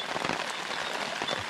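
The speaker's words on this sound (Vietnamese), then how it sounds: "bắt đầu mưa" Rain beginning to fall on an outdoor campsite, a steady close patter of drops striking surfaces with no voices.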